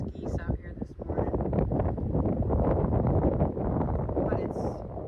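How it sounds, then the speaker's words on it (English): Strong wind gusts by a lake, buffeting the microphone in loud rough bursts while a person talks over it throughout. "is so windy. So windy."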